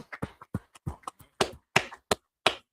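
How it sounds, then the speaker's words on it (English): A congregation claps at a church service: a dozen or so sharp, broadband hand claps in an uneven, loosening rhythm, close and fairly loud, with no talking over them. "So let's clap that up one time."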